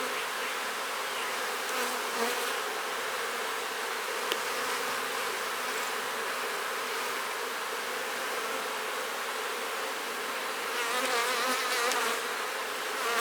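A steady, dense drone of many honeybees buzzing close by as they are shaken from a queen clip, continuous and even throughout with slight swells near the end.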